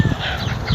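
Golden Misri hens on a small backyard farm let out a short burst of close, loud clucking, a quick series of throaty notes with nothing else heard.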